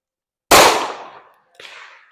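A loud, sharp shot from a Glock 26 pistol at an outdoor range fades over half a second, followed by a softer clatter and faint clicks nearby.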